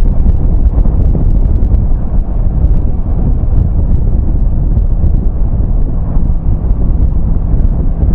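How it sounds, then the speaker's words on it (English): Heavy wind buffets the microphone during a cold motorcycle ride at about 5 degrees, a loud, constant low rumble that lasts the whole stretch, with no voices heard. "And we got some serious wind today."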